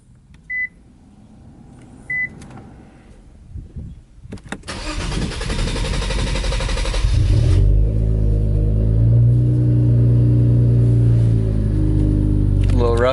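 An Infiniti Q50 cranks and starts roughly after an AMS fuel pump install, preceded by two short chimes, then settling into a loud, steady idle close by.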